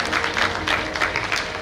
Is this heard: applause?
yes